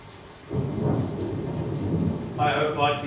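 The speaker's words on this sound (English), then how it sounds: "seems to be getting closer." A stage-play sound effect of a thunderstorm with rain: a loud rolling thunder rumble breaks in after a brief quiet start, with a steady rain wash beneath and a brighter crackling burst near the end.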